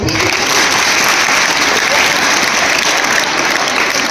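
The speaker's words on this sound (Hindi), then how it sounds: "अपने लिए ताली बजानी" Schoolchildren at a girls' higher secondary school clapping for themselves in a loud, dense, sustained burst of applause that fills the room without pause.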